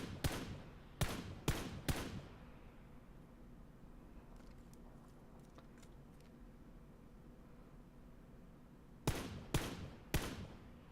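Gunfire in PUBG: three or four sharp, close shots in quick succession at the start. A quiet stretch follows, then three more shots in a similar rhythm near the end, all over faint background noise.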